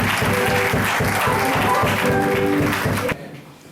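A church congregation claps loudly and steadily in praise of the Lord, close dense applause with rhythmic beats underneath that cuts off abruptly near the end, leaving quiet room tone.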